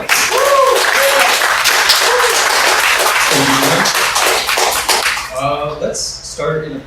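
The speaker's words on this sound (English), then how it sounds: "So let's give him a round of applause." An audience at a talk on liturgical living applauds loudly and continuously for several seconds before the clapping thins out, with voices and murmurs mixed in toward the end.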